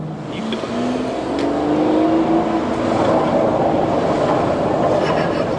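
A deep, rumbling Aston Martin DBS Superleggera engine drones loudly and continuously at about 10 mph, swelling slightly as it revs, with a low thunder-like growl throughout.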